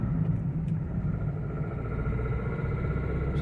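Ford Figo diesel car driving on the road after a clutch set replacement, with a steady low engine and road rumble throughout and no talk.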